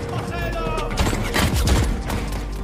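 Film shootout between villagers and a military force, with dense overlapping gunfire and booms rolling continuously at moderate loudness under a busy mix.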